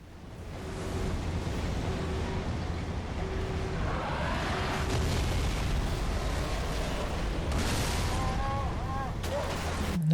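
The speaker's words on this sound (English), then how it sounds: "That guy survived the explosion of the scarab, but not much else" A Scarab blows up in the Halo game, a loud sustained roaring blast with rumbling debris that builds over several seconds and carries steadily to the end.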